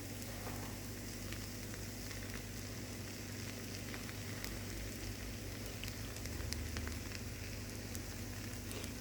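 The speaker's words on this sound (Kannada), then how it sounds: "ಈಗ ಅಕ್ಕಿ ಫ್ರೈ ಆಗಿದೆ" Rice frying in a pan with grated coconut being added, a steady close sizzle and crackle that stays fairly even throughout, with no one speaking over it.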